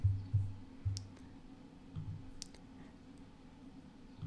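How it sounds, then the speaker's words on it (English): Computer mouse clicks while working through Likert survey data, a few sharp isolated clicks spaced a second or more apart, faint and close against a quiet room background. "Change that by clicking on it"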